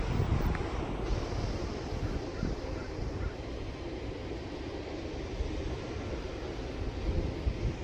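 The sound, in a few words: ocean waves crashing on the shore at a golf course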